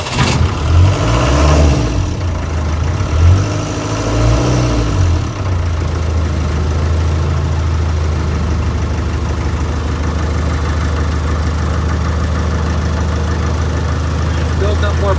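Land Rover Series 2A 2.25-litre diesel engine revving hard during a cold start, then settling into a steady, loud, rough idle that continues alone for most of the clip.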